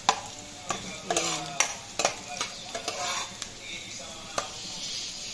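Garlic and ginger sautéing in a pan for pinakbet, a steady sizzle broken by sharp clacks of a spatula stirring and scraping, close up with no talking.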